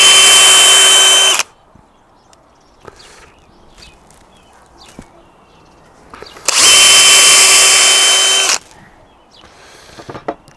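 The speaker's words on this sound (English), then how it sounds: "Take and put our pilot holes in so we don't split the wood while driving screws." Two separate bursts of a power drill boring pilot holes in wood while building a fish tank stand, each a loud high whine lasting a second or two, with quiet knocks, taps and handling noises in the pauses.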